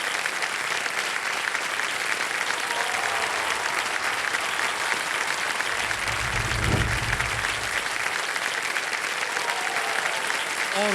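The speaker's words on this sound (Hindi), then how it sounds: "और कोच अमोल मजुमदार जी का तालियों के साथ अभिनंदन" A studio audience on an Indian television quiz show applauds steadily for nearly eleven seconds, a dense, even wash of clapping with a brief murmur of voices partway through.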